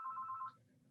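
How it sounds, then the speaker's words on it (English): A telephone rings at a town government committee meeting, a bright, steady electronic trill lasting about half a second over a faint background hum before cutting off, with no talk. "I've got a phone ringing here."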